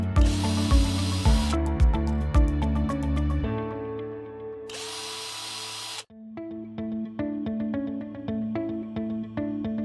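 A power drill with a Phillips driver bit whirs in a few bursts driving screws into a cabinet, with clicking, ratcheting mechanical noise between and after, close and fairly loud.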